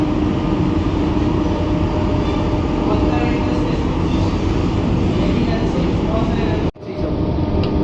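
An AC local train on the Sealdah–Kalyani line running through Ichapur station: a steady, loud rumble of wheels and carriage noise fills the cabin, then cuts out abruptly with a sharp dropout before resuming.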